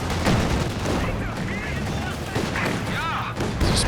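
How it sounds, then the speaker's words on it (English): Artillery barrage in the video game Company of Heroes 2, with heavy booms and rapid overlapping blasts filling the short stretch, loud and dense under a commentator talking. "Just barrage onto the pack."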